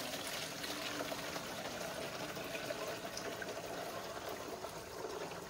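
Water gushing steadily from an opened valve into a rainwater tank for a lettuce seedling setup, a continuous broadband rushing flow that stays fairly even and close, with no talk over it.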